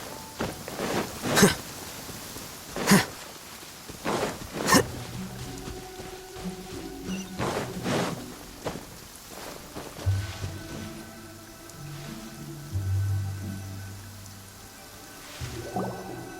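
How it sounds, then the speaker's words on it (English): Rain in the video game Genshin Impact, heard as scattered drips and soft splashes over a low ambient game hum, with intermittent louder droplet hits and no talking. "Going out on a rainy day is the worst."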